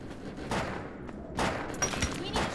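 Gunfire from the video game Defiance sounds as a few quick shot bursts at moderate volume over a busy game background, with bits of talk mixed in.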